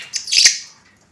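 Pet lovebirds in cages give a single bright, close chirp that is loud, clear and brief, then fades quickly into quiet.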